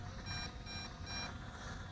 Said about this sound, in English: Now it's beeping again.